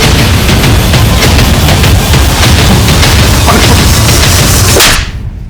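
A gunshot in a staged crime drama: a loud, sharp burst that rings out and decays over several seconds into a rumbling tail before cutting off abruptly near the end.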